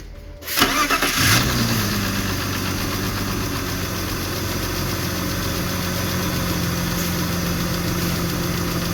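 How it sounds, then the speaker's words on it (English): A 1995 BMW E36 320i cranking and firing on a cold start, a short starter whir then the engine catching with a surge and settling into a steady, fairly loud idle that continues evenly. "let me turn it on and listen to the engine sound when it's cold start"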